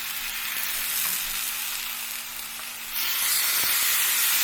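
Carne asada steaks searing in a hot pan give a steady, close sizzle, left undisturbed, with the hiss rising sharply in loudness about two-thirds of the way through.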